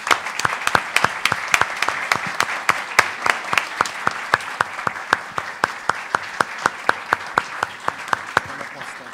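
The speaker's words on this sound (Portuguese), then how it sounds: "eu vou pedir uma salva de palmas para ela agora" Rhythmic, unison clapping from a lecture audience, sharp evenly spaced claps in a steady beat over a softer bed of scattered applause, continuing for about nine seconds.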